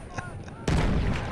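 Dreadnought battleship artillery fires in Battlefield 1: one sudden, heavy, booming shot that cuts through quieter battlefield sounds and leaves a loud, rumbling tail.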